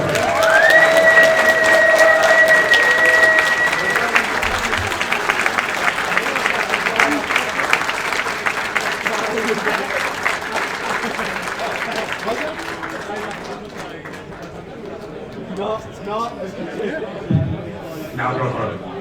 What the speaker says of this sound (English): That was not a long enough round of applause for the work and dedication of Furious Jim Gradwell and friends